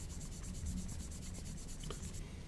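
Steady, soft buffing of a plastic model aircraft fuselage with a sanding buffer, a continuous close-up scratchy friction sound with faint repeated strokes.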